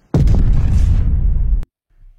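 A single loud explosion inside a warehouse in the film Kembang Api, a heavy deep boom that roars for about a second and a half before cutting off abruptly into silence.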